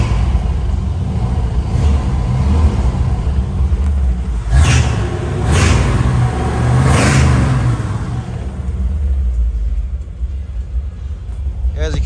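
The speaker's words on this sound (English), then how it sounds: "Let's give this thing a rev." A 1957 Chevrolet Bel-Air with a Hurst shifter has its engine revved up several times, loud, close-up throttle blips rising and falling over a steady rumbling idle, with some talk mixed in.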